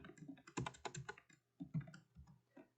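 Typing on a computer keyboard while entering a line of programming code, with quick bursts of crisp clicking keystrokes in short irregular runs and small pauses between them, close and clear with no voices.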